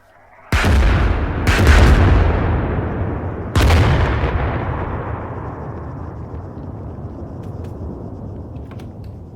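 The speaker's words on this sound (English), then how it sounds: "there is artillery stuff coming right down on top of them" Artillery fire in the military game Arma 3: three heavy booming blasts in the first four seconds, each with a long rumbling tail that fades slowly, loud and close, with no talk over it.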